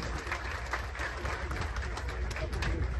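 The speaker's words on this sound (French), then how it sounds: "Nous allons applaudir pour nous" An audience applauds together at a gathering marking 1 January 2024 and independence, a dense, steady wash of clapping with crowd noise that holds at the same level for the whole stretch.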